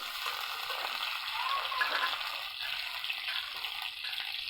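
Green chilies, chopped garlic, dried chilies and chopped onion fry in oil for radish greens, a soft, steady sizzling hiss with faint stirring scrapes, moderately quiet and without talk.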